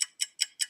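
Four evenly spaced clock ticks from an iMovie sound effect, crisp and bright, each a short sharp click about a fifth of a second apart, heard alone and close.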